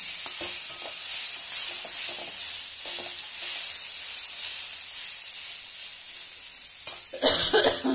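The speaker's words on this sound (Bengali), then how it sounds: "ঝাল হবে গো, কাশি এসেছে" A single cough bursts out near the end, loud and close, over steady sizzling and stirring as spicy kundri (ivy gourd) fries with poppy seeds in a pan.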